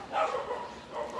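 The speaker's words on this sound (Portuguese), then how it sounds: "ao som dos cachorros latindo" Dogs bark briefly in the neighborhood, one or two quick woofs at moderate distance over faint background noise.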